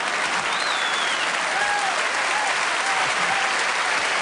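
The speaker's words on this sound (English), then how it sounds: "a round of applause for these two wonderful sports" A theatre audience at a royal variety show gives a round of applause, a dense, steady wash of clapping that fills the whole stretch with faint whistles rising above it.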